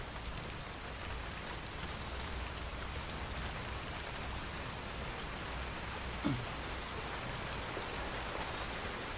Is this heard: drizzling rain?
yes